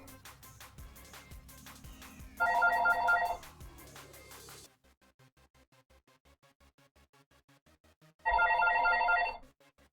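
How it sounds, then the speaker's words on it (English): A telephone rings in two short electronic bursts separated by a gap, loud and clear over a faint repetitive ticking background beat. "phone ring, guys, hang tight"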